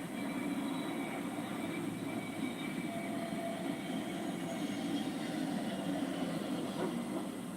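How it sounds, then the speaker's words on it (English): An airplane attempts a landing during Cyclone Fengal in India, its engines producing a steady, even droning rumble with a faint tonal hum, continuous throughout and unaccompanied by voices. "This plane was landing just as Cyclone Fengal was wreaking havoc in India."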